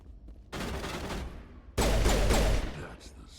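Bursts of gunfire in a video game, one sustained volley of rapid shots followed by a louder, denser second burst, with a voice speaking briefly around them.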